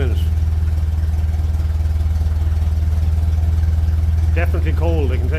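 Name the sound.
cold 1957 Ferguson 35 TVO tractor engine idling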